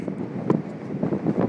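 Wind buffeting a microphone during a wind storm, a low rumbling roar with uneven gusty thumps, close and steady throughout.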